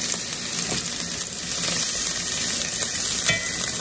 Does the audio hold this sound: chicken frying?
yes